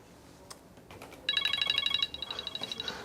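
A telephone rings at a desk in a hospital intensive care unit, its electronic warbling tone pulsing rapidly in a loud burst, then repeating more softly over low background murmur.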